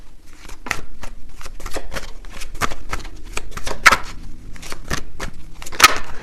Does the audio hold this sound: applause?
no